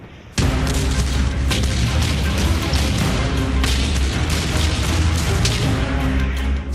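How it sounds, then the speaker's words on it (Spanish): Artillery barrage from the Battle of Kursk: a sudden onset after a short quiet lead-in, then a continuous, loud roar of overlapping explosions and deep booms with no pauses. "Explosiones constantes."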